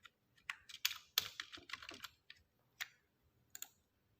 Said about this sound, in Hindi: माउस की जगह सीधा कीबोर्ड कर दूँगा